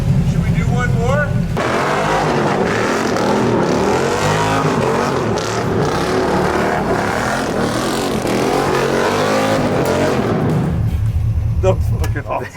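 A Hobbs & Shaw trophy truck spins out with a loud, close engine roar that rises and churns for several seconds before dropping back toward idle.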